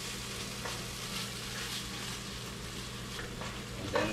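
Leftovers and eggs with broken yolks sizzle and fry steadily in a pan, a continuous crackle with occasional scraping stirs and a sharper clatter near the end.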